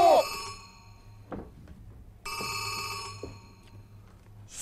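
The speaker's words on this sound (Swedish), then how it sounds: "Det ringer i spåntelefonen!" Two bursts of an electric telephone bell ringing, steady and fairly loud with a short gap between them, in a Swedish children's TV comedy with a telephone in a cupboard.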